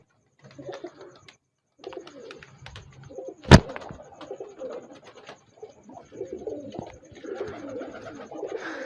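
Sialkoti Jonsiry pigeons coo nearby in soft, low, repeated phrases, broken once by a sharp, loud click, with no speech.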